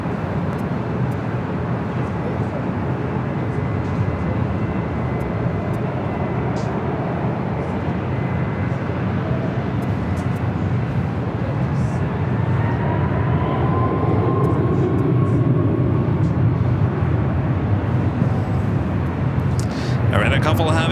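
An airliner taking off from runway 24 right at LAX, a loud sustained jet engine roar that holds steady and swells slightly, heard from a distance with some rising whine.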